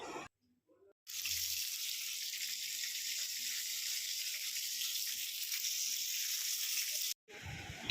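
Vegetables sizzle in a pan on a home stove while stirred with a spatula, a steady close hiss lasting about six seconds between short silences.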